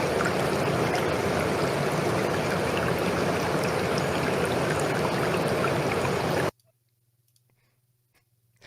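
A person's voice imitates a small river's flowing water: a steady, close hissing gurgle scattered with little clicks runs for about six and a half seconds, then cuts off abruptly into near silence.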